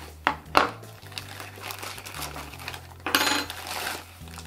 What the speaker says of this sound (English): it's going to come in a nice little plastic bag like this. We're going to open it up